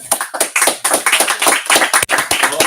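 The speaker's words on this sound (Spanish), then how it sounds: "Os pido un aplauso para Pablo Moratti, por favor." Rhythmic, close-up hand clapping from a modest audience at a film festival colloquium in Málaga, distinct individual claps in a quick irregular pattern, fairly loud with a brief gap near the end.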